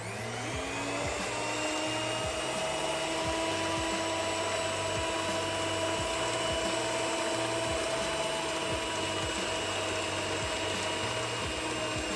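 A steady, loud electric mixer or stand mixer whirs continuously while kneading puff puff dough of flour and yeast, with a rhythmic mechanical thumping beneath the constant motor whine and no voices.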